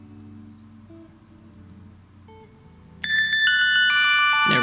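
A Casio GA-B2100 wristwatch's phone finder alert goes off: after a few faint tones it bursts into loud, continuous electronic beeping and ringing melody tones, close and alone without talking.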